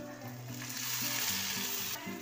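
Spice paste fries with browned onions in a pan for egg curry, a close, steady sizzle that swells and crackles as it is stirred, while soft background music plays.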